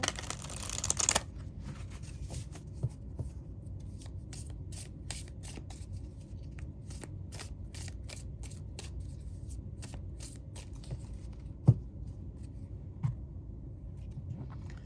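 Wandering Moon tarot cards are shuffled and drawn in a quiet room, soft papery riffles and flicks repeating steadily, with one sharper card tap partway through.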